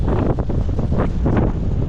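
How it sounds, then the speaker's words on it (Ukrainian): Gusty wind buffets the microphone in loud, uneven rumbling bursts for a couple of seconds. "О, вітер."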